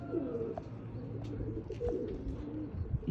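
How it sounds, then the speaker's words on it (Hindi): Sialkoti Ali wale pigeons coo softly with low repeated rolling calls at close range, amid a murmur of background noise. "ये हैं दोस्तों सियालकोटी प्योर हालत के अली वाले कबूतर"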